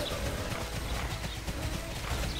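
A horse in the online game TERA clip-clops with a steady, rapid patter of hooves under a dense, constant game soundscape, with no talk over it.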